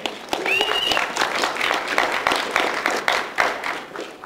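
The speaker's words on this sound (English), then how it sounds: "we can all just give ourselves a big round of applause" Live-stream participants give themselves a big round of applause, a steady wash of clapping with a few cheers and voices mixed in throughout.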